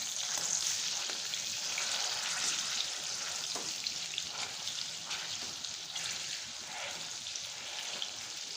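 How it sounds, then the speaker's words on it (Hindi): Mashed banana frying in a pan gives a continuous hissing sizzle, even and close throughout with faint occasional scrapes, and nobody speaks. "और इसको फ्राई कर लेते हैं।"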